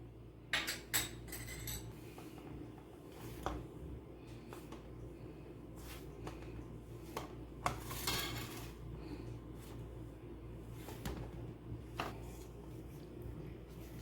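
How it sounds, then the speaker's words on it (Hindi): Pizza dough being mixed in a bowl with yeast and salt, giving soft squishing and stirring with scattered clinks and knocks against the bowl, fairly quiet and irregular. "ये हम इसमें ईस्ट और नमक डालकर इसको अच्छी तरह मिक्स करेंगे आटे को"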